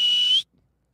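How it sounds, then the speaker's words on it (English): One short, shrill whistle blast, close and fairly loud, rising slightly in pitch before it cuts off into silence. "we need a whistle"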